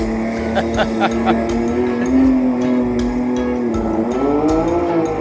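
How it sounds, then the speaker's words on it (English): A loud long-tail racing boat engine drones as it passes nearby, its pitch rising and falling, with faint voices beneath the motor. "That's a long-tailed racing boat"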